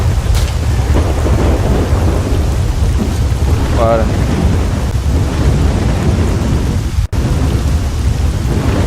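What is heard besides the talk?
thunderstorm with rain in S.T.A.L.K.E.R. video game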